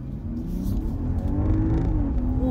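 A 2023 BMW 740i engine revs hard and climbs steadily in pitch as it accelerates at full throttle, loud and close, with a rising whine throughout.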